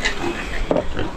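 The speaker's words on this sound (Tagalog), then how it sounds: "Maraming biik oh." Piglets grunting in a pig pen on a farm, a short burst of snorting oinks over steady background noise at moderate distance.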